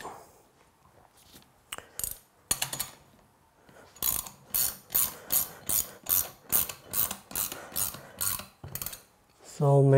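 A torque wrench ratchets in a quick clicking run while tightening the clamp on a Pentair Südmo SVP Basic single seat valve during maintenance, with a few scattered clicks at first, then a steady series of sharp, close clicks.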